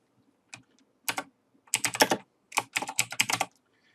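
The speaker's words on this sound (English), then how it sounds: "I would just hit the return key or the enter key." Clusters of quick clicks on a computer keyboard come in short bursts with pauses between, close and fairly quiet against a silent room.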